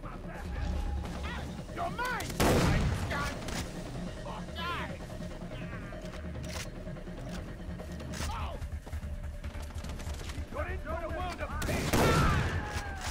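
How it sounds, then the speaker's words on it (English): Far Cry 3 combat with loud close shotgun blasts, two heavy booming shots standing out amid ongoing gunfire and clatter, with voices underneath. "I shot the dude point blank with my shotgun"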